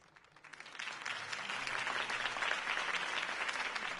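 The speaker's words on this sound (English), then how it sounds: "could have heard that applause" A crowd in the Batman Telltale video game bursts into applause, building quickly to steady, loud clapping that fills the space and carries on without pause.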